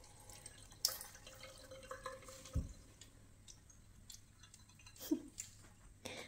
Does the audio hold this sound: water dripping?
yes